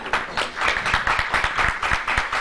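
An audience claps steadily at a fundraiser with Sheriff Leroy Baca, a brisk, even patter of many hands close by.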